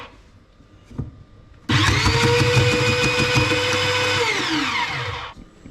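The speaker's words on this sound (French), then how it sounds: "On va les passer à la machine." A kitchen machine whirs loudly as it processes peeled carrots for lentil soup. The steady motor roar starts abruptly, holds, then winds down in pitch near the end.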